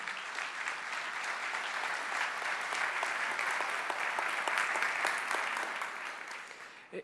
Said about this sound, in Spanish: Gustavo Vélez, director del INTAL, a quien recibimos con un fuerte aplauso